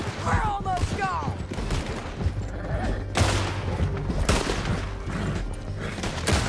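Video game gunfire in Red Dead Redemption 2 during a horseback canyon chase: continuous overlapping shots and volleys, loud and busy, with shouting voices mixed in throughout.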